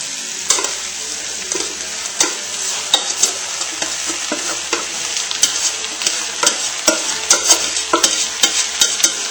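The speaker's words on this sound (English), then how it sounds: "And now, without burning ourselves, we're going to also add our rice." Rice goes into a sizzling stir fry, with a loud continuous sizzle broken by repeated sharp scraping and clattering from stirring at an uneven rhythm.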